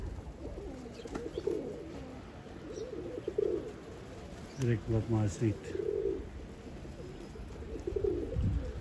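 Pigeons coo softly near a loft in repeated low, throaty phrases, moderately close, while someone talks intermittently over them and faint outdoor background noise lingers.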